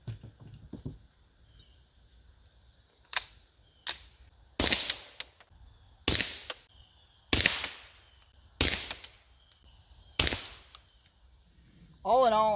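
Eight sharp reports from a Ruger Mark IV 22/45 pistol with a 3-inch barrel shooting CCI standard velocity 40 grain round nose .22 rounds, spaced irregularly about a second apart with short ringing tails, on a quiet outdoor range.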